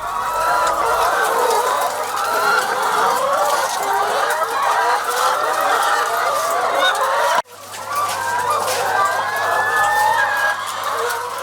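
A dense, continuous chorus of many laying hens clucking and squawking fills an enclosed poultry house, steady and loud throughout with one brief break.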